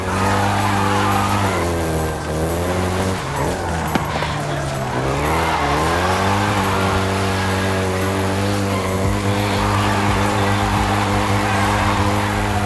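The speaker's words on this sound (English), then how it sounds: "including the Golf GTI you're driving right now" A Volkswagen Golf GTI in Forza Horizon 5 drones steadily at close range, its engine pitch dipping and climbing through gear changes, with tires squealing partway through, a continuous loud drive throughout.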